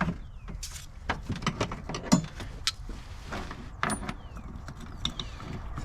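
A hand ratchet clicks in short, irregular bursts while turning a bolt on a Honda Odyssey power steering pump, with scattered metallic taps and shuffling of tools close by, fairly quiet and without speech.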